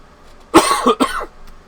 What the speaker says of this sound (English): sorry, didn't mean to cough so much